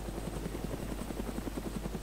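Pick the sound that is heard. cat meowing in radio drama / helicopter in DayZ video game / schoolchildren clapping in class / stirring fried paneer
helicopter in DayZ video game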